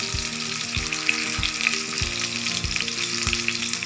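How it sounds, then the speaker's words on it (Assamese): Potatoes frying in plain oil in a pan for a bitter gourd dish, a steady close sizzle with rhythmic stirring knocks roughly every half second, no voices. "আমি অকল সুদা তেলতে আলুখিনি ফ্ৰাই কৰি ল'ম।"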